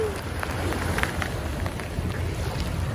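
Strong waves wash onto Dolomite Beach on Manila Bay, a steady broadband rush of surf with low rumbling and wind buffeting the microphone, continuous and fairly close, with no clear talk.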